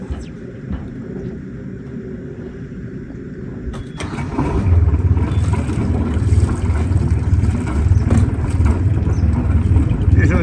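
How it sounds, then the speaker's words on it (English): The motors of a Seawind 1160 catamaran start and settle into a low, steady idle rumble that swells after a few seconds and continues close by under wind noise. "First thing to do is to start the motors, put the starboard one in forward"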